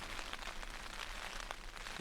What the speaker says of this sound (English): So the rain did indeed arrive